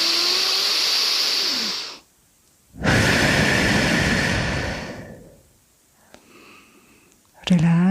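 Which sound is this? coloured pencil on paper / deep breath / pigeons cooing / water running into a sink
deep breath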